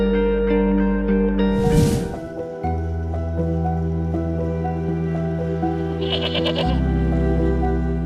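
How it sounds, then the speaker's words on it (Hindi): A goat bought at a livestock market bleats loudly and nearby, one long wavering cry followed by a second shorter bleat, with a steady low hum underneath and no talking. "एक बकरी खरीदी है मंडी से और वो मुलाजिम लेकर आ रहा है पीछे"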